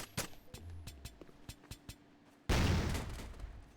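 A grenade goes off in a Call of Duty: Warzone match. A run of sharp, scattered gunshots comes first, then a sudden loud blast erupts and roars on before slowly fading.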